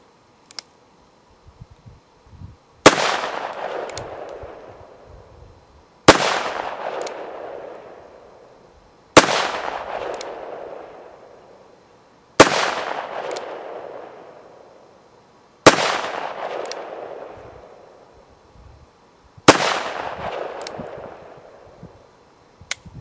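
A Ruger Single Six revolver fired outdoors, six loud single shots spaced about three seconds apart, each with a sharp crack and a long fading echo, no talking.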